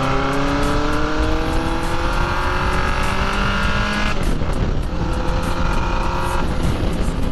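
A loud four-cylinder Honda CB750F Integra motorcycle engine revs hard and climbs through the gears in rising, smooth sweeps, with a brief dip before pulling again.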